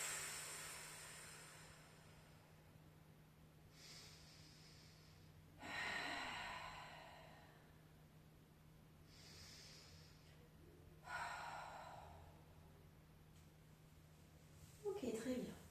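Slow, deep breathing during a morning yoga exercise, with several long breaths spaced a few seconds apart, close but quiet over a steady low hum.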